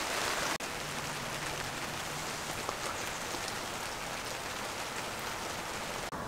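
Rain falls steadily outdoors, a constant dense hiss of drops on surfaces, close and even throughout with no voices.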